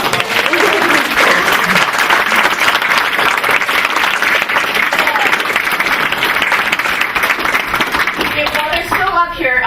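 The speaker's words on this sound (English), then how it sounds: "So if we can just get them a round of applause" A loud, steady round of applause fills a school board meeting room, dense clapping throughout with crowd murmur beneath, and a voice comes in briefly as it tapers at the end.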